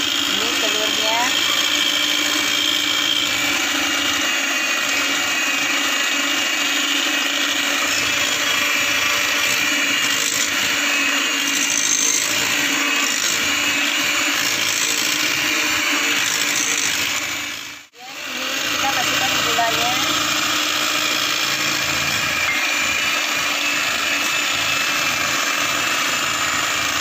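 An electric mixer beats butter and egg together for nastar cookie dough, a steady loud motor whir that runs almost without a break while a person talks over it.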